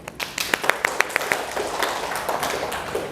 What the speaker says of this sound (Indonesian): Tepuk tangan dulu untuk Roni.